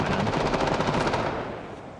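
Rapid burst of .44 Magnum gunfire in the video game Project Zomboid, a loud close stream of shots that cuts off and trails into a fading echo, with no talking.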